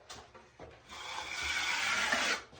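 Excess drywall mud being scraped off a wall with a knife: a couple of short rasping strokes, then one long, steady, close scrape that stops abruptly.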